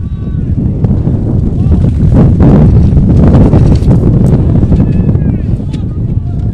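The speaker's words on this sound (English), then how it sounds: "Strong wind gusts" Strong wind buffeting the microphone in rough low rumbles at a professional ultimate frisbee game, Madison Radicals at Minnesota Wind Chill, with a commentator talking over it throughout.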